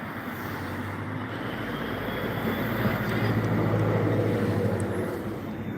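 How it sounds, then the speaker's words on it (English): Airplane passing overhead near an airport terminal with building work going on, a steady broad roar that swells slightly midway and stays loud throughout, with no talking. "Where's that plane?"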